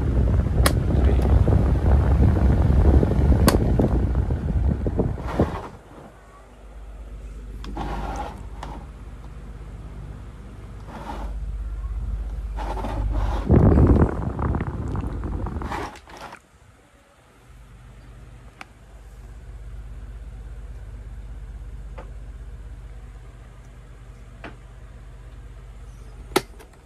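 An electric desk fan with a wobbly bushing runs with a steady hum and whir, broken by gusty, wind-like buffeting and occasional sharp clicks, heard up close with no talking.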